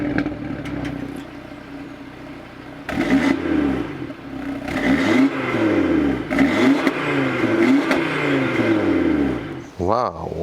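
A 2019 Audi RS3 hatchback with the optional performance exhaust revs hard several times, each throaty exhaust roar climbing and falling in pitch, loud and close, with a short blip at the end.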